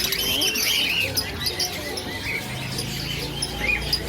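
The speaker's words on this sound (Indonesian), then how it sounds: "Ini burung banyak." Many caged birds at the Pramuka bird market chirp and twitter at once in a dense, continuous chorus of high calls, with crowded market bustle underneath.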